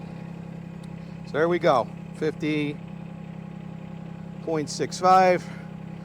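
A 1.2-ton Chinese mini excavator engine idles at lowered throttle with a steady, even hum, while someone talks briefly over it in a few short bursts.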